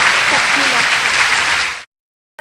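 Loud, sustained applause from a large audience that fades away, leaving brief silence before a sound returns.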